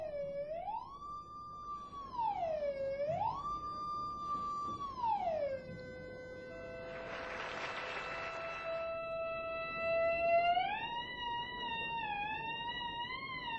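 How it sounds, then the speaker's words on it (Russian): Electronic tone from a conductor loop sensing voltage in a metal nail during a high-voltage demonstration: a wavering, siren-like pitch that sweeps up and down, with a short noisy hiss burst midway, steady and fairly near. "Это петля из проводника, которая при помощи электронного замыкания акустически воспроизводит напряжение, концентрируемое в металлическом предмете."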